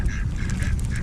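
Ducks at a lake give short nasal quacks and honks close by over low rumbling outdoor background noise, a brief burst of several calls.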